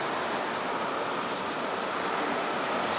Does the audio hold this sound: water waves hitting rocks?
yes